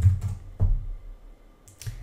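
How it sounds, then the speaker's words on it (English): Short bursts of typing on a laptop keyboard, a few quick close clicks in two small clusters separated by a brief pause, quiet and alone. "I'm just going to go in and type in a bogus username and password."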